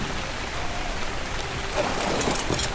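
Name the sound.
rain in a video game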